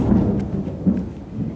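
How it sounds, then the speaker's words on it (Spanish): Rain and thunder in Miami: a deep thunder rumble rolls over steady rainfall, loud and close, with no voices. "Está lloviendo en Miami."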